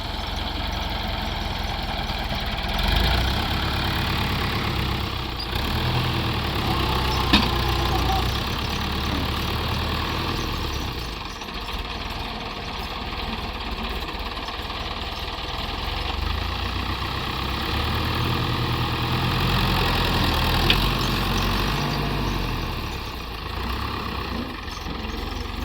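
Tractor engine idling outdoors on a farm, a steady low diesel rumble with faint vibration that holds unchanged for nearly half a minute, close and continuous.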